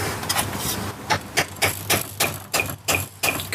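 A Weber DCOE carburettor part getting light taps during a workbench teardown, a string of about ten small, bright metallic ticks in an uneven rhythm, close and clear with no talking.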